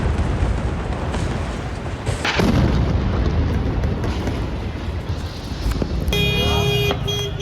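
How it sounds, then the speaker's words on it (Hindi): Heavy booming rumble from air strikes and bombardment in Lebanon, a continuous loud wash of low blasts and noise with a sharp impact partway through and a brief tonal burst near the end. "एयर स्ट्राइक्स लगातार की जा रही हैं"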